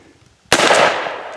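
A single sharp gunshot at an outdoor shooting target in Kentucky, a sudden loud crack followed by a long rolling echo that fades slowly.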